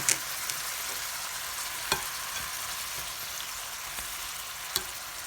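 Food stir-fries in a pan with a steady high sizzle, broken by a few sharp clicks of a utensil scraping the pan, close and continuous with no talking.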